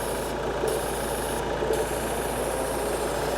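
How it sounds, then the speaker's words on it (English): Ford Transit Custom van engine idles with a steady low rumble as the vacuum pipe to the brake servo sucks hard, a close, continuous, even sound with no talking. "this pipe here goes to the brake servo, and that is sucking really, really well"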